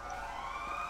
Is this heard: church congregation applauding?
no